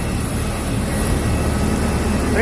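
Air India airplane engine running at an airport, a loud, steady broadband roar with a high whine that holds unchanged throughout and gradually swells slightly toward the end.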